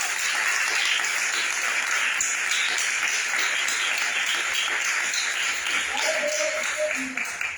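A church congregation gives a round of applause, a dense continuous wash of clapping that holds steady at even loudness, with a few faint voices and a brief tonal sound near the end.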